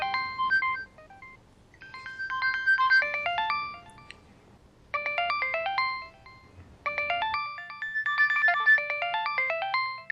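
A mobile phone ringtone plays a bright, repeating electronic melody in four bursts with short gaps, clear and fairly close, with no voices over it.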